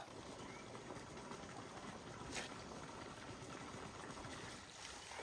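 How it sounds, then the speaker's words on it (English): Water pours steadily from an outdoor spigot into a bottle along a bikepacking loop, a continuous close rushing gurgle with a faint voice nearby. "there's this spigot right here. And it looks like people come right here and fill up water with it."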